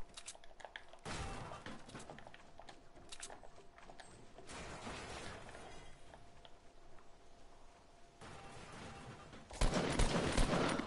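Gunfire in Fortnite, with bursts of shots and a couple of headshots, sharp cracks and rattling volleys at varying distances, loudest in a dense burst near the end.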